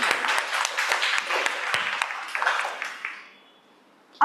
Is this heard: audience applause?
yes